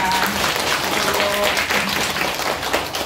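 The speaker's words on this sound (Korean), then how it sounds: "큰 박수 한번 부탁드립니다" Audience applause at a community residents' association event in Korea, a steady wash of clapping from a crowd lasting the whole stretch, fairly loud and continuous with faint voices mixed in.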